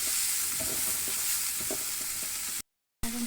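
Gram greens, chickpea leaves from a home garden, fry in a pan with a loud continuous sizzle and soft stirring scrapes, close by, briefly cutting out before resuming.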